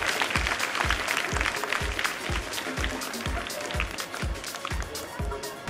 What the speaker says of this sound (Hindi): आप जोरदार तालियों से अभिवादन कीजिए माननीय विधायक महोदय का